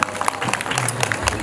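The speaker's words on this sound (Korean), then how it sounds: "준비해 주신 모든 분들께 수고하셨다고 격려의 박수 크게 한번 주시면 고맙겠습니다" Audience applause at an outdoor Korean cultural festival and plaque unveiling ceremony, a brief, steady burst of clapping from a gathered crowd with some murmuring underneath.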